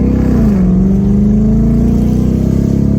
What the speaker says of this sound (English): Give her a little bit of throttle.